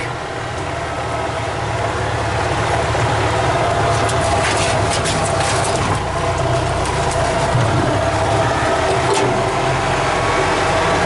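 A car engine runs steadily after a starter replacement while driving, a continuous loud low drone with some higher rattling bursts through the middle, no voices.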